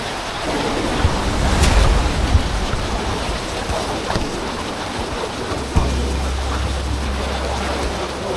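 Water rushes through a rocky cave near Baggao Bluewater Falls, a loud continuous roar of flowing water with low rumbling swells and occasional knocks close to the microphone.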